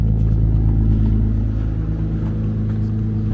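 A lowered car's engine idles loud and close with a deep, steady rumble and slight swells of revving, running continuously with no talk over it.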